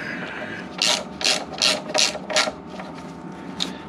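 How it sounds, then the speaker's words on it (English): A hand ratchet with six-sided sockets works a brake bolt on a 2021-22 Honda PCX125 scooter during a brake pad change, giving a quick series of crisp clicking bursts close by in a quiet workshop. "nice having a decent ratchet"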